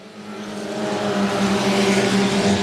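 Race cars roar around the track at Houston Motorsports Park on the final lap, a steady, building engine drone that swells louder as the pack draws nearer, with no voices.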